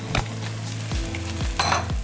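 Rice stirred with egg over high heat in a pan, a spatula scraping and clanking against the metal in a few sharp strokes amid a soft sizzle.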